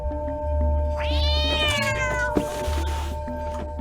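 A cat in the video game Stray gives one drawn-out, rising-then-falling meow, loud and close over a low ambient game hum.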